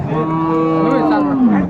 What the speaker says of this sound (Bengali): গাভী বাছুর আমরা দেখছিলাম বেশ সুন্দর কোয়ালিটির